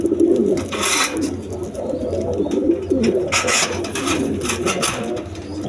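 Healthy pigeons for sale, including young birds, coo steadily from close by, with low murmuring and occasional soft fluttering over a continuous background.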